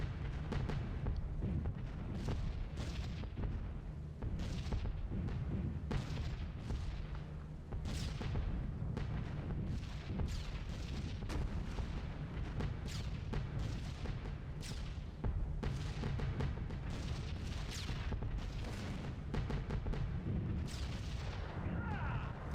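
Anti-aircraft flak bursts around a B-17 bomber in B-17 The Mighty 8th, a steady stream of dull booms and thuds over constant low engine drone, with a voice talking over the barrage.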